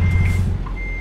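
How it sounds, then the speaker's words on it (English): A dump truck in the American Truck Simulator video game rumbles with a low, loud engine drone, joined by a steady high electronic tone like a reversing beep. "We're going to let this dump truck try to get around me."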